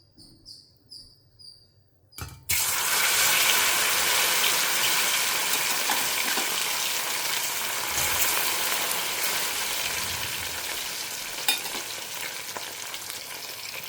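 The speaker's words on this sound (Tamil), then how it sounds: "ஸோ நம்ம இதை இப்போ பொரித்து எடுத்துட்டுலாம்." Taro root pieces hit hot oil after a few light clinks, then fry with a loud, steady sizzle and hiss close up, with occasional pops and stirring.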